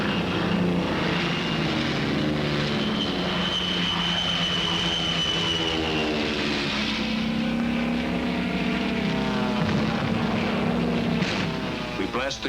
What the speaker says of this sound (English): Thunderbolts take off from our new field.